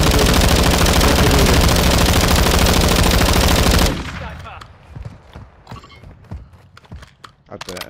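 Gunfire in Call of Duty: Modern Warfare II, a loud, dense, unbroken automatic burst for several seconds that cuts off abruptly, followed by quieter scattered thuds and footsteps.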